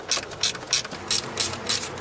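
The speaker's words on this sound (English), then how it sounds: "This one is a flexible and ratcheting, so voila." Flexible-head ratcheting wrench clicking during work on a Honda KL transmission filter, a rapid pawl rattle in about six evenly spaced bursts, close and fairly loud with no talk.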